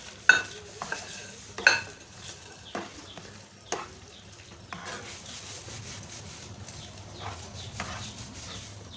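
A spoon stirs aloe vera halwa in a pan with soft sizzling, giving sharp scraping clacks at the start and then steady, quieter scraping and frying with no talking.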